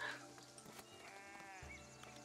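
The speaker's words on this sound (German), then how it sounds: "Die Schafe." Sheep bleat in the farming game Foundation, a wavering nasal call heard fairly clearly over a steady game soundscape with a low hum, no talking.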